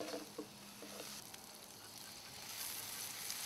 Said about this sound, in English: And we're going to fry it just a little bit.